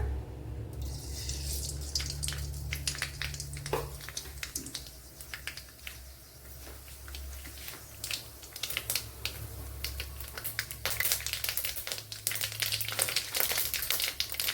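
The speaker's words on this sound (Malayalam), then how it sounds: "ഇവിടെ ഒരു രണ്ട് ടേബിൾ സ്പൂൺ വെളിച്ചെണ്ണ ഒഴിച്ചു കൊടുത്തിട്ടുണ്ട് അതിലേക്ക് ഇനി കടുക് ഇട്ട് കൊടുക്കാം" Mustard seeds splutter in about two tablespoons of hot coconut oil in a pan. Sharp, irregular pops and crackles keep coming, fairly close, with no talking.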